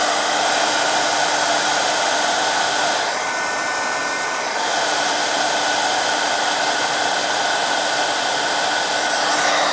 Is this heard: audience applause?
no